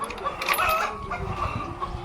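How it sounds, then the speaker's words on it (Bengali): Chickens on a poultry farm of about 2000 birds cluck in overlapping bursts, close and moderately loud over a busy, steady flock din. "এখানে মুরগি আছে মোট 2000 মুরগি"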